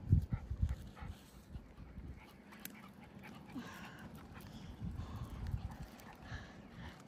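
A dog pants and scuffles nearby over outdoor ambience at a fish hatchery by Elephant Butte Lake, with irregular soft footfalls and rustling throughout.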